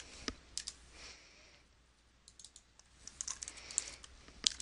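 Quiet, close typing on a computer keyboard: scattered soft key clicks, sparse early on and then a quicker cluster of taps toward the end, with no talking.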